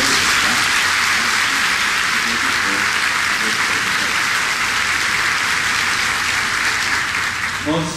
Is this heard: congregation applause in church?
yes